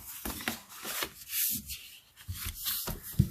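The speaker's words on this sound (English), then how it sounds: "I'm going to burnish it on both sides to get a nice crisp edge" Rubbing and scraping strokes of a burnishing tool along the fold of a Stampin' Up! paper card, close and fairly quiet, in uneven bursts with short pauses between passes.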